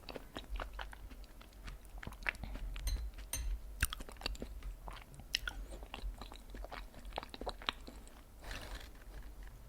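Strawberry mochi being chewed up close, with a steady run of soft sticky squishes and light bites over nearly ten seconds and no talking.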